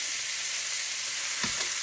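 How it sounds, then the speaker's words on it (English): Ribs searing in a hot pan, a steady broadband sizzle and crackle running throughout, with a brief louder spit of fat near the end. "We're going to sear these"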